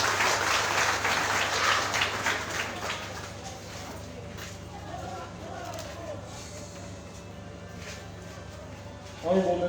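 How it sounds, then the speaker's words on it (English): Applause from an audience at a memorandum of understanding signing ceremony fills the opening seconds, then fades into a quieter room hum with a brief sound at the very end. "Please, let's give them another round of applause."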